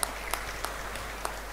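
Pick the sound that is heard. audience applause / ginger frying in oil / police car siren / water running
audience applause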